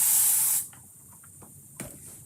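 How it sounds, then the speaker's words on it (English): A spray bottle misting water over chalk artwork, one long close hissing burst that cuts off, followed by quiet and a short second spritz. "Spray this again."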